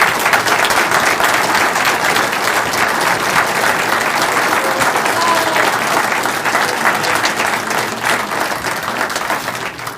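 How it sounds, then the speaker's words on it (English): Meeting audience at an astronomy club gathering applauds steadily for a member's photographs, a dense, even wash of clapping that holds for the full length, tapering only slightly near the end. "if you'd like to give Mike special applause for the pictures that he took"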